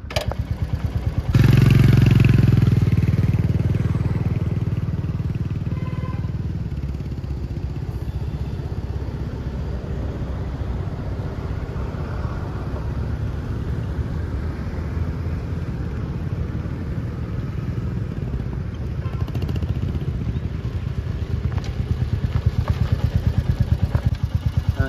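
A new Royal Enfield motorcycle engine runs close by, starting with a loud surge and then thumping steadily at idle for a long stretch with no talk.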